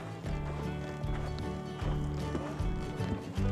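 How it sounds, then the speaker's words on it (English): Horses on a slow trail ride at a ranch in Tucson, Arizona, with steady hoof clops under a dense, continuous wash of other noise and faint voices. "you have to hop on a horse and ride on a 30-minute trail"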